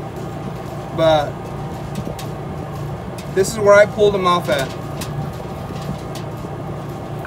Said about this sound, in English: Sorry for the generator noise